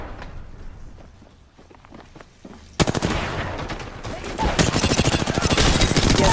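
Automatic weapon fire rattles in the video game Apex Legends, first as quieter bursts, then a sudden close, loud and sustained stream of rapid shots mixed with footsteps and hectic action.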